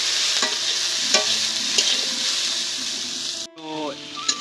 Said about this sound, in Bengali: তাই এটা ভাজা করছি